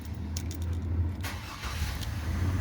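A family backup car's engine idles steadily with a low, continuous hum, joined by a brief rush of broadband noise partway through, with no one talking.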